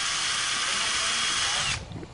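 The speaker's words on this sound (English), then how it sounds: "You want to go ahead and drill through the leg." A power drill whirring steadily at high speed for under two seconds, drilling through a metal leg of a swimming pool slide for a deck anchor, then stopping abruptly, leaving faint handling noise.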